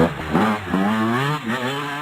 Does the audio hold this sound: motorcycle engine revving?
yes